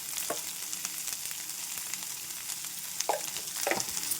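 Vegetables frying in oil for a ridge gourd and sweet corn curry give a steady close sizzle, with a few short stirring scrapes toward the end and no talking.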